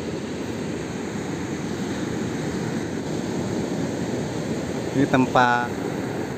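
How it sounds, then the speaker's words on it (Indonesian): Steady broadband wash of sea waves at the tip of Java in Alas Purwo, a constant surf roar filling the whole clip, with a brief spoken phrase near the end over it. "Dan ini lautnya pucuk Pulau Jawa."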